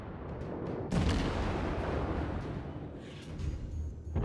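A single deep boom of naval gunfire from the Erie cruiser in the World of Warships game, loud and rumbling, then decaying into a long, low roar with no voices.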